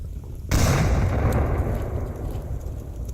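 Grenade blast in the VR shooter Onward: one sudden loud explosion that erupts after a quiet moment, then a long rumbling decay lingering to the end.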